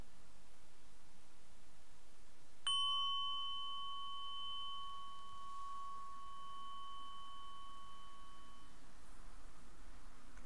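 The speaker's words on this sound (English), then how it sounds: "So I'm going to ring the mindful bell" One mindfulness bell is struck once, and its clear, pure tone rings on and fades slowly over several seconds against a quiet, faintly hissing room.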